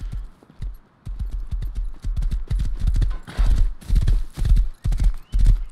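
Horse hooves clip-clop in a quick, steady rhythm in the video game Rust, loud and close, with a whinny partway through.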